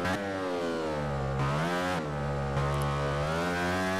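Motorcycle engine in the racing video game MotoGP 15, a loud, continuous revving drone that rises and falls in pitch as the bike accelerates and shifts gears, heard alone with no talk.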